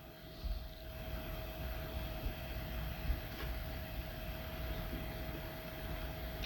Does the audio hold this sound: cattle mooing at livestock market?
no